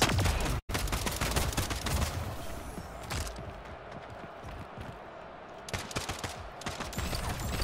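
Rapid bursts of assault rifle fire in the arena shooter Splitgate, dense and continuous with clustered shots and short pauses, loud and close.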